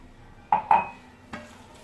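A spoon stirs cookie dough of sugar, butter and oil in a bowl, making three short scraping knocks against the bowl, close and alone.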